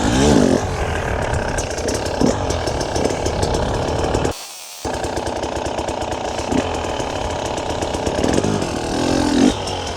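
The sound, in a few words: motorcycle engine revving during slow wheelie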